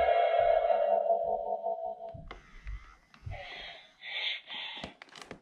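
Hasbro's animatronic Baby Yoda Grogu toy, still in its box, plays its sound: a sustained tonal hum, then small creature-like breathy snorts and gasps, close and moderately quiet.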